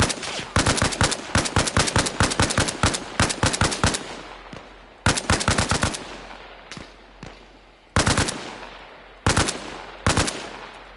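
Loud bursts of automatic gunfire from Arma Reforger, a military shooter: rapid rattling volleys for the first four seconds, then short separated bursts with gaps of quiet between them, no talk.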